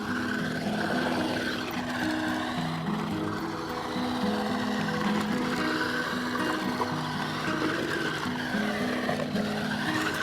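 Small RC truck fitted with bigger tires driving over rough ground, its electric motor whining steadily and loudly with shifting pitch as it climbs and rocks, with no talking.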